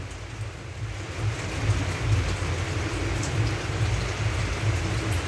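Heavy rain pours down in a steady, dense hiss with low drumming on surfaces, loud and continuous with no voices.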